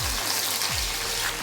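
Garlic and curry leaves crackle in hot oil for a pumpkin sambar, a dense, steady spitting hiss like heavy rain on a surface, close and continuous with a few low thumps beneath, no voices.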